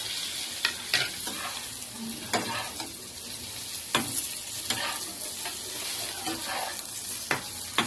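Eggplant and mixed vegetables frying with onion and green chilli in a pan, a steady loud sizzle with repeated scraping stirs of a spatula, close and continuous with no talking.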